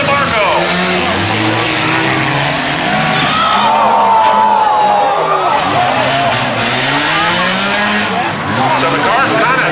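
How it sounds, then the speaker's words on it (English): Cars colliding and revving in a demolition derby, loud continuous engine roar with screeching tires and impacts, crowd noise and a commentator talking over the action. "Good hit by the 40 of Tim DiNamizio."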